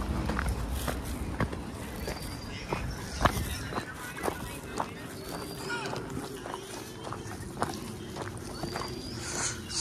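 Footsteps crunch along a monsoon trail at the start of the Naneghat trek, a steady irregular walking rhythm of several people close by, with voices talking over the steps.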